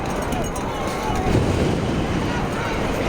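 Steady wind rushing across the microphone at a night high school boys soccer state championship game, a constant broadband roar with faint crowd-like murmur beneath.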